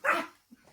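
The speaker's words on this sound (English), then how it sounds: "a dog." A single dog bark, sharp and fairly close, followed by quiet with a faint low sound afterward.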